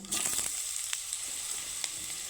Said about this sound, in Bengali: ওই দেড়টা চামচের মতো সর্ষের তেল দিয়ে দিব সামান্য পরিমাণে কালো জিরে ফোড়নে আর এখানে কেটে রাখা কেটে রাখা ঝিঙ্গিগুলো দিয়ে দিব